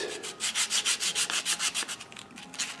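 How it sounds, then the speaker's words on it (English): Sandpaper rubs white paint off a soprano ukulele in quick, even back-and-forth strokes, about a dozen rhythmic scratchy passes that come close and loud, with no talking. "I'll sand off the white paint."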